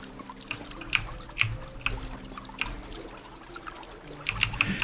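A small waterfall in the medieval survival game Medieval Dynasty, heard as a soft, continuous trickle with scattered bright drips and splashes punctuating it at irregular intervals, fairly quiet and alone.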